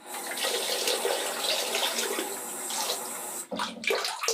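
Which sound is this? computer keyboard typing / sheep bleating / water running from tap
water running from tap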